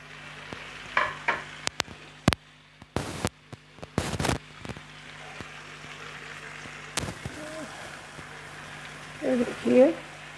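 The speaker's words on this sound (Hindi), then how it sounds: "अब इसकी अच्छी से मैंने भुनाई करनी है, इसमें ऑयल में से फ्राई भी हो जाए" Chicken pieces frying and browning in oil in a pot for biryani, with intermittent stirring clatters and bursts of sizzling, broken by short loud scrapes, and someone talking quietly at moments.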